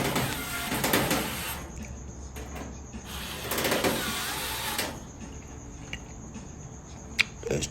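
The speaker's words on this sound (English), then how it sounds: "Okay, I'm starting the screws off here." Powered driver whirs in two sustained bursts while it drives screws into a bracket on a Whirlpool Duet gas dryer, model WGD9270XW0. A few small clicks of handling follow.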